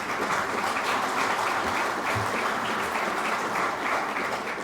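A gathered audience at a national address applauds continuously, a steady dense wash of many hands clapping at moderate distance with no talk over it.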